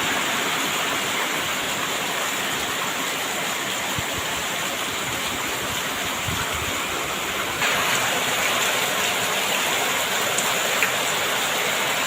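Steady rain pours down in a dense, continuous hiss, loud and close throughout, growing slightly heavier partway through, with no voices.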